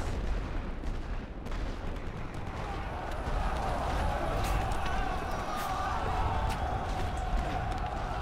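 Artillery barrage fired in a Great War Western Front video game, a dense wall of rumbling blasts and crackling bursts that hold steady over the whole stretch, with voices in the mix.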